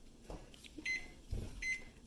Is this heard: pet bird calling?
no